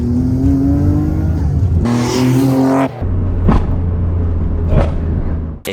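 Nissan R32 GTR with an RB26 engine and a stainless steel exhaust, revving loudly and close up: a steady throaty idle rises into sharp blips, with a few quick throttle stabs near the end.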